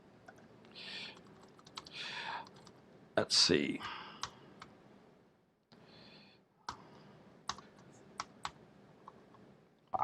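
Bursts of clicky computer keyboard typing come in short uneven runs with pauses, close and fairly quiet, while a man mutters briefly between keystrokes.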